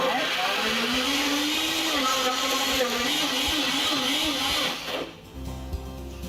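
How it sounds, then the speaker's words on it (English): A Vitamix blender whirring at high speed through oranges, lemon zest, lemon juice and fresh mint, a loud steady motor drone with a wavering pitch that cuts out near the end, close by with no talk. "We're just going to blend that up."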